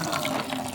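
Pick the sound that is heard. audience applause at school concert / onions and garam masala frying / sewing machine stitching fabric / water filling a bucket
water filling a bucket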